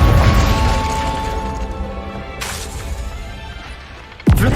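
Fiery blasts from the Confringo spell in Hogwarts Legacy, set in a greenhouse: a sharp burst near the middle and another sudden bang at the end, both over a steady game soundscape with no talk.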